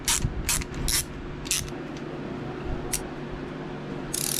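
A ratchet clicks in quick bursts as tappet cover fasteners are tightened on a Harley engine during a rebuild, close and crisp, with short pauses between strokes over a faint background hum.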